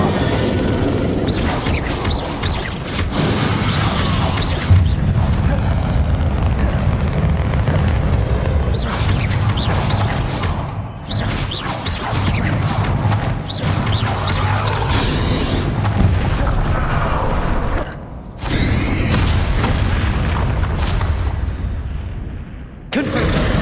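Repeated loud, booming blasts from the Bombarda explosion spell in Hogwarts Legacy on PS5, continuous dense bursts of impacts filling the scene with brief pauses, no talking.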